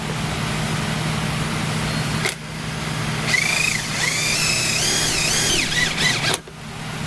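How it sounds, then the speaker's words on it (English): A drill bores a new hole into the plastic side skirt of a Honda Civic Type R, running steadily, stopping briefly, then resuming with squealing, wavering tones as the bit bites, close and loud. "drilling a brand new hole into this side skirt"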